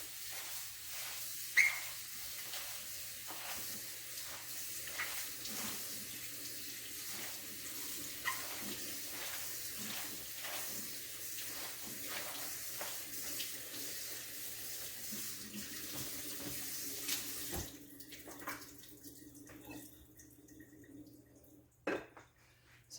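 Lettuce washed for a salad under a running kitchen tap, a steady close water stream with splashes and drips, cutting off near the end, no talk.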